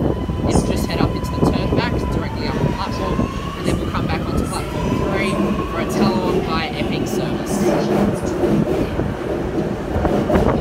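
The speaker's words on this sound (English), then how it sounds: "we have a Metro service arriving onto platform 2, terminating service" Sydney Metro train arriving at a platform, a continuous rumble of wheels and motors with a steady whining tone, heard under ongoing talk close by.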